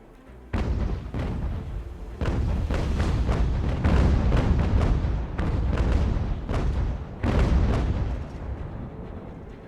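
A volley of cannon fire from a sailing warship in the naval battle game UGAR, with heavy booming shots coming in rapid irregular bursts over several seconds, loud and rumbling, with no voices.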